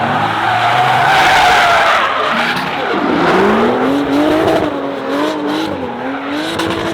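A drift race car skids with loud, sustained tire squeal, its pitch wavering and sliding as it holds the angle, up close over engine roar.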